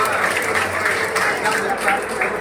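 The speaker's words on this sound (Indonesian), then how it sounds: "Ya, kita berikan tepuk tangan kita." Applause from an audience at the unveiling of a plaque for a building inauguration in Padang, steady and dense clapping filling the room, with a voice speaking over it.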